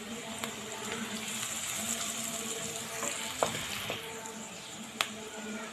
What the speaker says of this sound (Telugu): మట్టి పాత్ర కదండి, చాలా చిన్నగా కలుపుకోవాలి.